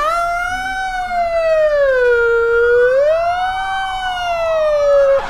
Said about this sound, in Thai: รถพยาบาลมา